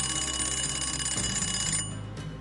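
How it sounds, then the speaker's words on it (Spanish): An old bedside alarm clock rings loudly and continuously for over two seconds, its metallic bell rattle easing slightly near the end, with no voices. "el viejo despertador de su mesilla se activó con un arbitrario desacierto que sobresaltó al humilde pastor"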